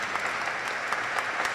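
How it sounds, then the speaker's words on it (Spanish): A crowd applauding steadily, dense clapping throughout at moderate volume without voices, at a religious solemnity service. "Que se escuche ese aplauso para estos granadinos"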